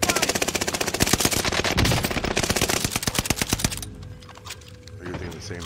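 Loud, close automatic gunfire in a video game rattles in fast, even bursts for nearly four seconds, then gives way to scattered fainter shots and low background noise.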